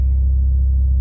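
A car engine idles with a deep, steady low rumble and a slight rasp from an exhaust leak, heard close and loud without any talk.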